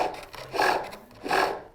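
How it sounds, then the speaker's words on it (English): A roughing gouge scores wood on a lathe while turning crest posts for a captain's chair, giving two close, rasping scrapes in quick succession with short pauses between. "So I will maybe go back to the roughing gouge briefly. And I'm going to keep scoring this through."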